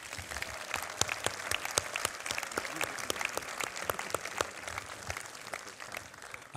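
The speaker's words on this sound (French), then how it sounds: "moi je propose qu'on applaudisse" An audience watching the Mars InSight launch applauds at a moderate level, with distinct individual claps spread throughout in an uneven, lively patter that lasts the whole stretch.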